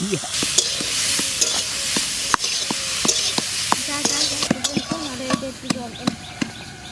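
Cauliflower lightly frying in a pan, with a steady broadband sizzle under repeated sharp clicks and scrapes of a utensil stirring, while a voice speaks intermittently nearby.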